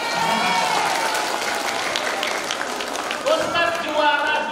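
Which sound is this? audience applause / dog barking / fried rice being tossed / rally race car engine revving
audience applause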